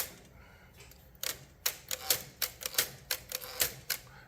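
A typewriter's tab mechanism runs through a series of sharp metallic clacks that come in a quickening, uneven rhythm, recorded close up, with a slight whine from the tab brake.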